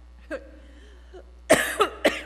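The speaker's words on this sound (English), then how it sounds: "I'm going to cough, hang on." A faint throat sound, then three sharp, close coughs in quick succession near the end, with quiet room noise between.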